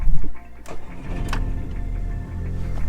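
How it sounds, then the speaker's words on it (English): A Mk5 Golf GTI engine cranks briefly on the key and then catches, settling into a steady running rumble close by. "just to be able to turn a key and the car to fire up into life"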